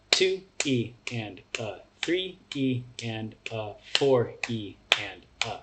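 Sharp hand claps on every sixteenth-note syllable, landing in an even, steady rhythm right on top of a voice counting the subdivisions aloud.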